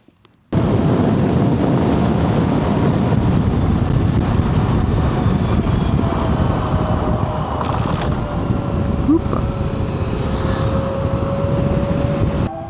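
A Flying Flea C6 motorcycle on the move, with a steady loud roar of engine and wind rushing past the rider after a brief quiet start, and no voices.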